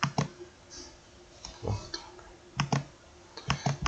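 A computer mouse clicks several times while setting up a Java web service client project, sharp short ticks in small pairs and clusters, fairly close and quiet, with no talking.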